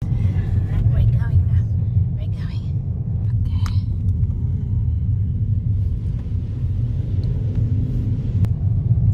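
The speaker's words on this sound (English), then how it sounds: "we are driving through the TAPU COROGLEN ROAD" A car drives along Tapu Coroglen Road, filling the cabin with a continuous low rumble of engine and tyres that stays steady and close throughout.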